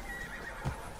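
A single short horse whinny comes from the fantasy adventure game Immortals Fenix Rising, close and brief amid faint background ambience.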